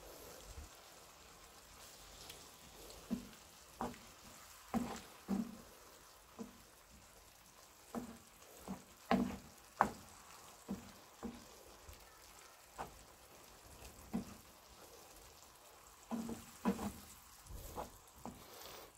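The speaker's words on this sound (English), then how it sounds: "Give it another little stir." Spaghetti bolognese sauce with beef stock sizzles faintly in a frying pan, broken by irregular soft scrapes and taps of stirring spread throughout.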